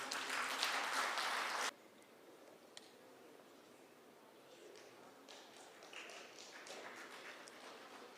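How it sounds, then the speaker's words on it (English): An audience applauds at a conference session, with a dense burst of clapping for under two seconds that cuts off abruptly, followed by quiet room tone and faint scattered sounds and murmurs. "Great applause to them."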